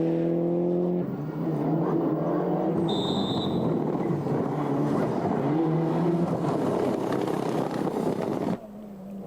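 Mazda 323 GTR rally car on a stage of the 1997 Ypres Westhoek Rally in Belgium, its engine roaring loud and close with shifting revs as it passes, then dropping away near the end.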